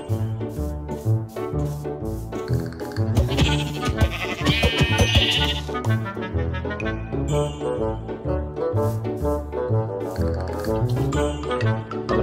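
Repeated sheep bleats from Minecraft, loud and continuous over a dense layered game soundscape, several overlapping calls across the whole stretch.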